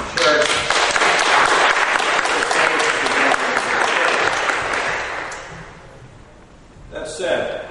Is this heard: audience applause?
yes